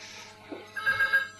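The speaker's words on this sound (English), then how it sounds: "Phone." A telephone rings indoors during a mid-1990s interview, a short electronic trill, fairly faint and brief, with a soft shuffling sound partway through.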